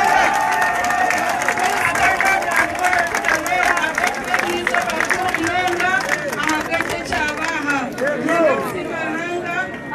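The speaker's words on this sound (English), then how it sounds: "I request that all of us stand up and clap our hands to the Lord." A standing crowd at a Ugandan political gathering claps along, the hand claps blending with loud cheering, chatter and singing voices in a busy, continuous din.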